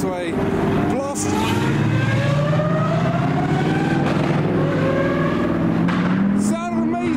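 A Lamborghini Aventador accelerates hard, its engine rising through rapid upshifts in a loud, close, rising roar, while excited voices talk over it.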